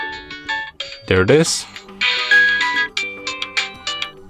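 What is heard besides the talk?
fixed alarm ringtone on Maxcom MM724 phone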